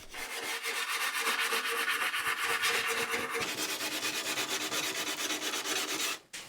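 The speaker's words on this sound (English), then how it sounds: "I sanded the back and the bottom" Someone sands the back of an old wooden bureau by hand, producing a continuous, rapid back-and-forth rasping rub that is close and steady, easing slightly near the end before stopping.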